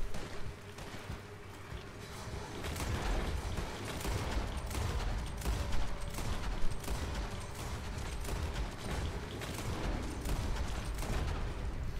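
Rapid gunfire from the Red Dead Online video game rattles continuously throughout a dense in-game battle, with sharp bursts over a rumbling background.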